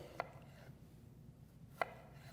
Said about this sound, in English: So I will cut this